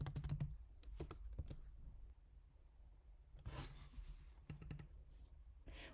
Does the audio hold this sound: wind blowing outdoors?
no